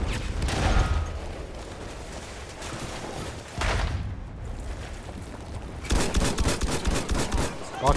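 Gunfire rattles through a Battlefield 1 match in the Sinai Desert, with bursts of rapid automatic shots and heavy booms coming in loud clusters, some near and some distant, under occasional talk.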